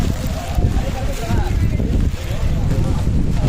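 Strong wind roars steadily at a hilltop viewpoint in Valparai, buffeting the microphone with a dense, continuous low rumble that never lets up, with muffled voices faintly underneath.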